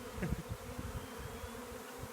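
Honeybee swarm buzzing around empty hive boxes, a soft steady drone with individual bees zipping close past in brief louder passes, no voices.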